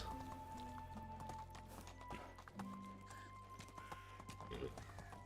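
Horse hooves clip-clop in a steady, quick rhythm in the medieval game Medieval Dynasty, moderately close, over a constant low background drone.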